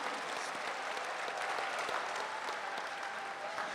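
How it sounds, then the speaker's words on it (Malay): An audience at the closing ceremony of an Islamic innovation expo gives sustained applause for gold medal winners, an even, distant wash of clapping across a large hall with no breaks. "Sekali lagi kita hadiahkan tepukan gemuruh kepada semua pemenang pingat emas."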